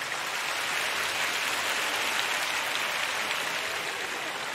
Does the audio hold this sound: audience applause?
yes